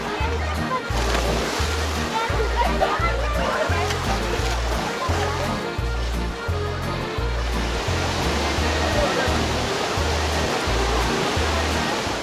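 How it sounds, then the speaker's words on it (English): White water rushes from under a bridge at the Eisbach river surf wave in Munich's English Garden, a loud, steady roaring torrent heard close by and continuously. "It's called the Eisbach wave, and it is a little portion of white water that comes rushing from the bridge."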